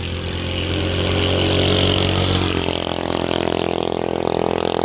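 Car engine with its throttle stuck open, revving hard at a high, sustained pitch. It roars loudly and continuously, then settles into a slightly lower but still strained steady drone.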